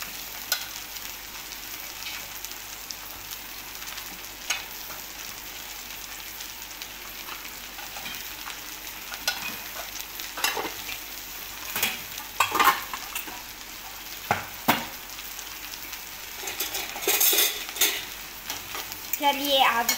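Okra with turmeric, chili powder and coriander powder sizzles in a frying pan, a steady crackling hiss with intermittent spatula scrapes and clatter that grow busier toward the end, with no speech.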